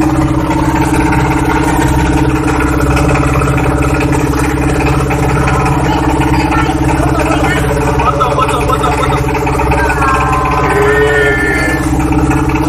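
A motorboat engine crossing Lake Ranau, a loud steady low drone with mechanical clatter running throughout, with faint voices underneath.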